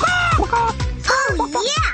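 A cartoon chicken in a Shimmer and Shine kids game squawks and clucks in loud, rapid, honking bursts, several calls back to back, close and prominent.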